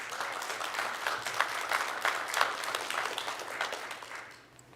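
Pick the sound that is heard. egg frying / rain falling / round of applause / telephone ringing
round of applause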